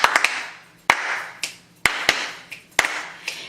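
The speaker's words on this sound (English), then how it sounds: "So can you clap like this?" Hand claps in a song-and-story session, landing as sharp separate strikes in small clusters of two or three with short gaps between them, close and fairly loud with no talking.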